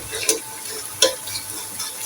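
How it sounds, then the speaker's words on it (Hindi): Ginger garlic paste fries in a pan with onions, a steady sizzle broken by two louder scraping stirs, close and clear with no talk. "तकरीबन 1 मिनट तक हम अपना अदरक लहसुन का पेस्ट फ्राई करेंगे।"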